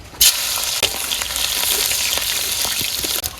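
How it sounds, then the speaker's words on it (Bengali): Shrimp frying in hot oil in a wok: a loud, continuous sizzle with a few sharp clinks and scrapes of stirring, close up and without talk. "কড়াইতে তেল দিয়ে দিলাম চিংড়ি মাছ দিয়ে দিলাম"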